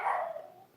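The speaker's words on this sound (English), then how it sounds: "do forgive my yappy little dog. She's in the next room and quite unhappy about it." A small, yappy female dog lets out a single short bark from the next room, sounding slightly muffled and trailing off quickly.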